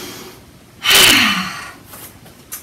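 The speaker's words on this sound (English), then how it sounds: "Give it an inhale." A single sharp, forceful inhale during yoga breathing practice, close and loud, swelling quickly and then fading over about a second.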